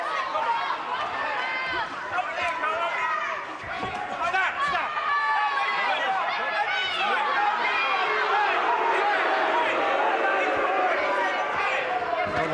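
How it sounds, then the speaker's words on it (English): A boxing arena crowd reacts after a low blow in an IBO light welterweight title fight, a loud sustained roar of voices and jeers running throughout, with a commentator talking over it. "the crowd making their feelings shown"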